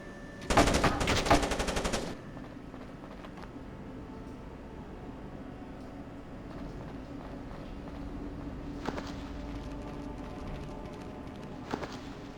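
Automated turrets firing in the stealth game Splinter Cell, a loud rapid burst of automatic fire about two seconds long, then a quieter mechanical hum with a few sharper later bursts.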